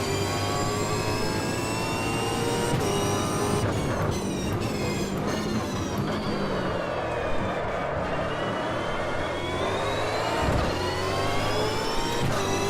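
A 1996 Formula 1 car in a racing sim runs a hot lap of Circuit Thermalito. The engine screams steadily and loudly throughout, its pitch rising and falling through gear changes as it accelerates and brakes.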